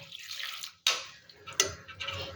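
Water splashes and trickles into a cooking pot of chilli powder and turmeric in a few short bursts, with small drips between pours, close by and fairly quiet.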